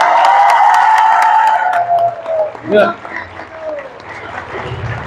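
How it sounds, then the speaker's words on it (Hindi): Audience applause at the Lai Haraoba festival in Abhaynagar, a dense burst of clapping that rises loud and then thins out over about five seconds, with a voice talking over it. "जैसा मैंने 1 लाख बोला, आप लोग ताली मारने लगे।"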